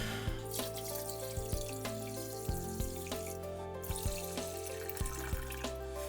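Tap water runs steadily into a pot for simmering corned beef, a continuous close splashing rush with no talking.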